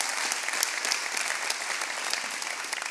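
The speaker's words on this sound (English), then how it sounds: "So give a big round of applause for her." Audience applause at a Friday night live event, dense continuous clapping from a crowd, steady and fairly loud throughout.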